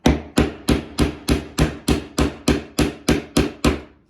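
Eleven evenly spaced, loud, sharp thuds as a wooden top piece is banged down onto a sanded wooden base without a hammer, each knock ringing briefly before the next.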